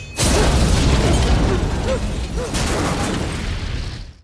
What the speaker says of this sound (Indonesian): Tuan Panther tidak punya pilihan lain selain meledakkan tempat kejadian perkara ini